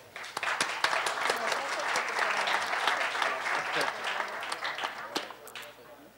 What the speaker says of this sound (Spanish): El fuerte aplauso, por favor.